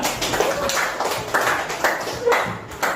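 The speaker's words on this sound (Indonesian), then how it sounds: "Tepuk tangan untuk Atila." A small group claps in a scattered, uneven rhythm for a few seconds, the claps fairly close and moderately loud.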